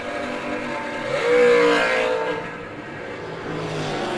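Dragster drag racing at a strip, Jesse in the Danny Nelson dragster against Greg Leachman in a little Chevy II: a broad engine roar that swells around the middle as the cars pass, then holds steady at a distance.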